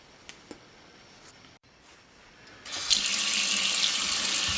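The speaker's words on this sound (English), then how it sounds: "So we'll put these potatoes in the sink." Tap water runs into a kitchen sink for washing potatoes, starting with a few small knocks and then turning into a steady, close rush of flowing water.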